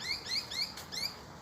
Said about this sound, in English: Those birds just sound beautiful, right?